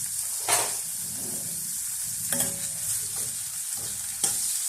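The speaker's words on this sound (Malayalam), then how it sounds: "ഒരു പാനിൽ എണ്ണ ചൂടാക്കാൻ വെച്ചിട്ടുണ്ട് അതിലേക്ക് ഒരു സവാള ചേർത്ത് കൊടുത്ത് നന്നായിട്ടൊന്ന് ഇളക്കിയെടുക്കുക" Sliced onion fries in hot oil in a pan with a constant, close sizzle, broken by several sharp scrapes as it is stirred.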